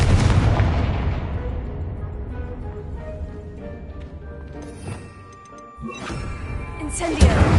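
A Confringo spell blast in Hogwarts Legacy, a loud booming explosion that decays slowly, followed by smaller pops and a second hit near the end.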